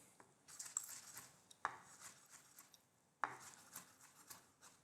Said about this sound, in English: we are just going to roughly chop them to add into our filling